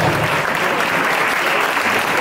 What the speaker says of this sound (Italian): Facciamone un applauso